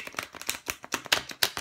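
Tarot cards are shuffled in quick, crisp riffling bursts, close and fairly quiet, with a light papery rhythm.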